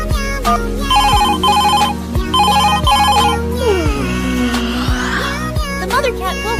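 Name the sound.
telephone ringing in cartoon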